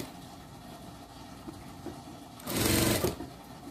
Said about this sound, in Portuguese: E vamos costurando minha cava